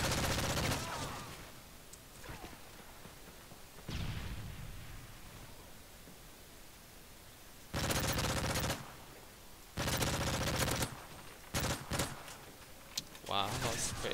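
Loud automatic gunfire in Modern Warfare 3 multiplayer, several sharp bursts of rapid shots separated by short pauses, with quieter stretches of game noise between them.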